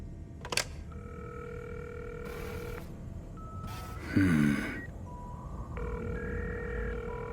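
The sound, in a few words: phone dialing and ringing in video game Cyberpunk 2077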